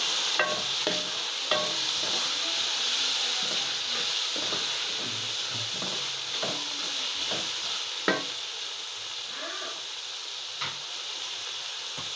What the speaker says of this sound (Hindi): अब मैं डालूंगी अपना चिकन, जो हमने थोड़ा सा पका के रखा है।